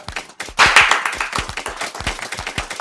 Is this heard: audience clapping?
yes